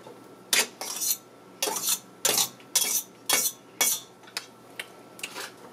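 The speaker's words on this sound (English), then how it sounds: "Next is to put back in the chopped boiled potatoes into the" Chopped boiled potatoes spooned back into a container for mashing, with about ten distinct clinks and scrapes of a metal utensil against the dish in an uneven rhythm, close and clear, no speech.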